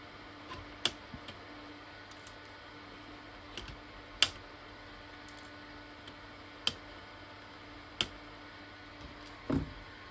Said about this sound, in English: now I'm going to trim those legs, make sure the LEDs are all where they should be